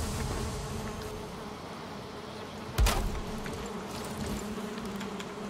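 Bees buzz in the Valheim video game, a steady droning hum that stays fairly soft and continuous, broken by one brief sharp click partway through.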